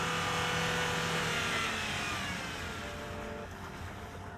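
A Land Rover SUV's engine roars loud and steady as it climbs an off-road obstacle with the gas pedal floored, the revving tapering slightly as the vehicle slides at the finish.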